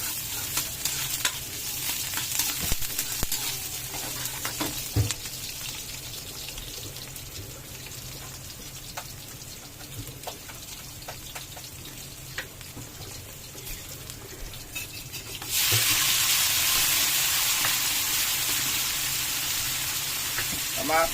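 Onion and garlic sautéing in a pan for Filipino mechado, an ongoing sizzle with stirring clatter that swells into a louder, brighter hiss near the end, with a voice faintly present.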